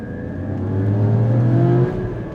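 A Porsche 981 engine pulls under acceleration in sixth gear, its low droning note rising steadily in pitch and loudness before easing off near the end, close and continuous with no talking.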